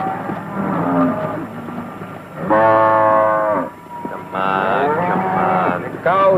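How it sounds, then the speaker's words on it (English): Cattle moo in long, loud, drawn-out calls, several overlapping in sequence on open grazing land, with a low rumble beneath. "Everywhere you look, there's just the cows and the bulls."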